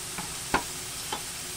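Chicken liver goes into a hot frying pan with browned gizzards for pancit, a steady soft sizzle broken by a few brief stirring scrapes and clinks.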